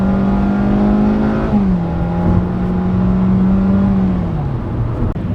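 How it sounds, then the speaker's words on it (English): A 2020 Hyundai Elantra SEL sedan's engine drones steadily from inside the cabin, its pitch shifting downward as it changes gear and settles into a sustained hum, loud and continuous with no talk. "I'm gonna go ahead and floor it in a little bit once this lady stops looking at me."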